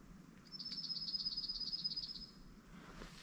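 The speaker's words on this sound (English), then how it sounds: "That little bird." A small bird gives a quick run of about a dozen high, evenly spaced chirps, fairly close and clear against quiet outdoor background.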